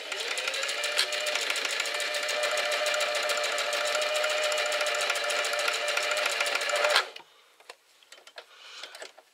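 A sewing machine stitches shoulder straps in a steady, loud, continuous run of rapid needle strokes for about seven seconds, then stops, leaving a few faint clicks and handling sounds.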